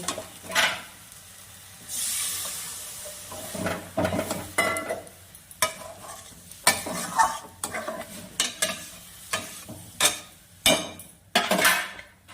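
Dried fish mash sizzles in a pan as water is added, followed by repeated scraping stirs and clinks of a spatula against the pan in uneven bursts, near and fairly loud.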